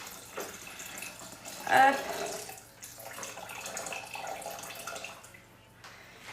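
About a litre of water (1020 g) poured into a Thermomix bowl, a soft steady running and splashing over several seconds with a brief swell partway through, and a short spoken word.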